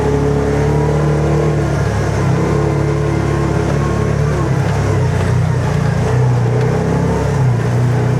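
A UTV engine drones loud and close with steady rumbling and shifting revs as it drives over mud and bumps on a motocross track.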